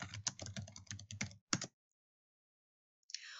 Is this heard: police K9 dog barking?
no